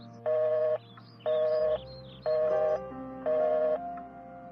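Four evenly spaced dual-tone beeps of a telephone being dialed, each about half a second long, clear and close over a steady low background hum.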